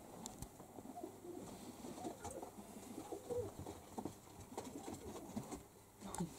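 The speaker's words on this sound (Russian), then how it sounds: "Это не простые голуби. Называется турман." Tumbler pigeons coo softly and repeatedly at close range, with light fluttering and scratching in between, against a quiet background without talk.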